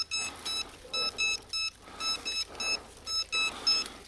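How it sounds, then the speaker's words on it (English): A high electronic beep pulses repeatedly in short, evenly spaced bursts from a FUAV Seraphi GPS quadcopter controller warning of signal loss, sharp and insistent, with no voices. "if you're wondering about that annoying beep, this is what it's for"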